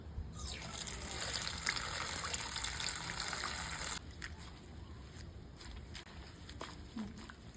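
Water gushes steadily from a tap into a vessel, two glasses' worth being measured out for hibiscus tea made from garden hibiscus petals; a loud continuous pour that eases to a lighter trickle partway through.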